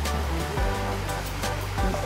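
A river runs right beside a riverside campsite in Saraburi, Thailand, its water rushing steadily, loud and close, throughout with no pauses.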